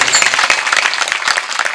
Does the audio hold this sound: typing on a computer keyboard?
no